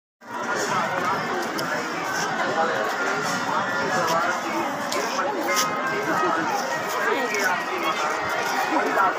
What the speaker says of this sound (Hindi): यहाँ पे काफ़ी ज़्यादा भीड़ है।